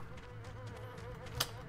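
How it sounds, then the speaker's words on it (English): Sting bees buzzing in the video game Oddworld: Stranger's Wrath, a faint steady insect drone under quiet game ambience with one brief click near the end. "Haven't had to use any sting bees yet."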